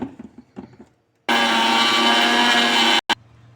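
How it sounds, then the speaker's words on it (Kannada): A mixer grinder jar spins salt and sugar into powder for wheat dosa batter, a loud steady whirring grind lasting under two seconds after faint background noise, cut off abruptly with a short final burst. "ಎಲ್ಲ ಮಿಕ್ಸಿ ಜಾರ್ಲಾಕಿ ಒಂದು ರೌಂಡ್ ಅದು ಪೊಡಿ ಮಾಡಬೇಕು"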